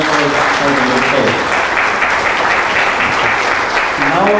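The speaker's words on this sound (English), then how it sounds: "A big round of applause" Loud, sustained applause from an audience at an academic lecture by Prof Sir David, a dense wash of many hands clapping close and unbroken, with a voice speaking over it at the start and end.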